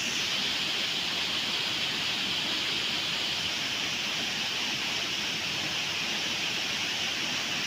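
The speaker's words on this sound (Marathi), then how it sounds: "पाण्याचा उसळी किती बघा पाणी." Floodwater surges loudly during heavy monsoon rain in Konkan, a dense, unbroken roar of rushing water filling the whole stretch close to the listener, with no voices.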